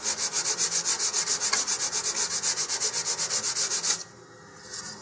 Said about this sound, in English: And then we're just going to sand this more or less with the grain.